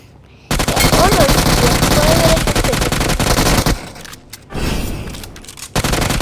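Gunfire from a scoped position in a video game comes as loud, dense bursts of rapid shots, then pauses and a final shorter volley, up close and dominating the clip.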